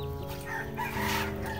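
Free-range village chickens cluck and a rooster crows nearby, a brief, steady burst of poultry calls with no speech over it.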